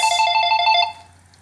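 A phone rings with a bright, electronic warbling tone, about eight quick pulses in under a second before it cuts off, close and fairly loud over a low steady hum.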